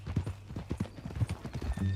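Horse hooves clip-clopping at a walking pace in Red Dead Redemption 2, a close, moderately loud run of uneven thuds with a brief snort or whinny near the end.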